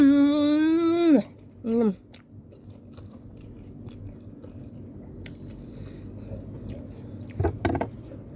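Close, wet chewing of meat follows a brief voice at the start, with soft squishy bites and mouth sounds at moderate level and a louder bite burst near the end.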